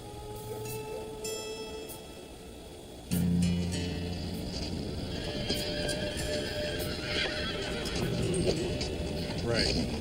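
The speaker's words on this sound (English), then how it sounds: "Those are wild horses." Wild horses whinny and snort amid the clatter of hooves, with a louder burst of movement partway through and a busy outdoor background.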